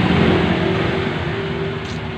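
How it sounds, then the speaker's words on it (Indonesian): A carbureted Honda Vario 110 scooter idles at close range, a steady low buzzing hum with an even tone throughout and no speech. "Nah, ini kondisi motor hidup."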